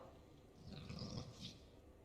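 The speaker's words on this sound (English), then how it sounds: "Alien fish dog." A growling alien fish dog from the video game Mass Effect 3 gives a low, rumbling growl that swells briefly and then fades, fairly faint and heard alone.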